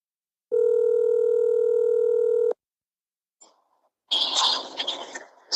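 A steady telephone dial tone runs for about two seconds while a call-in line for a podcast connects, followed by a brief click and then a burst of noisy line sound.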